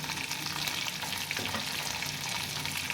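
Chopped vegetables, bell pepper, cabbage, carrot, potato and peas, sizzle steadily in a hot pan while being stirred for a Pakistani-style macaroni dish, a dense close frying hiss with scraping stir sounds throughout.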